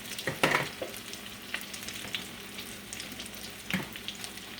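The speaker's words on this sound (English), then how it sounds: "I'm going to let them fry there a little bit before I put that one in." Salmon patties fry in a hot pan with a steady, dense sizzle, broken by a few sharp crackles and pops, close up and without any speech.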